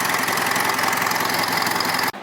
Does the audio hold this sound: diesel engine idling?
yes